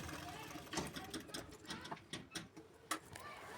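Sewing machine stitching lined blouse fabric, a rapid mechanical chatter in short bursts of varying length, close and fairly soft, with pauses between runs.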